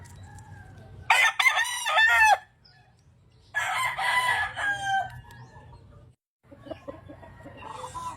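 A gamecock rooster crows twice, loud and strained, with a fainter call trailing at the end over a low background hum.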